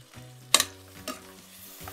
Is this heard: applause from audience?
no